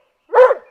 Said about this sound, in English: if she was, Scamper would bark and let us